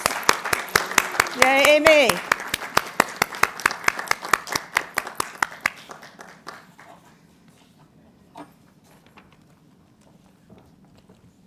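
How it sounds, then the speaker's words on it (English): A small group at a federal advisory committee meeting claps for an officer, a run of distinct, regular claps close by with a brief cheer voiced over them, fading to quiet room tone after about six seconds. "I think she deserves a really big round of applause."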